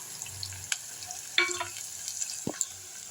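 Onions sautéing in oil in a pan for an egg gravy, a soft steady sizzle with a few light clicks and scrapes from a stirring utensil, heard close and fairly quiet, with no voices.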